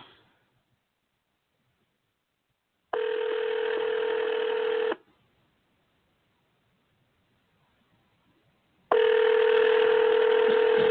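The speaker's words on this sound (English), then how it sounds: "Let me pick up the phone here." Telephone ringing on a podcast set, two long electronic ring bursts about two seconds each separated by a silent gap, loud and close with no talking.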